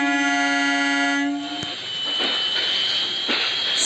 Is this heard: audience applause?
no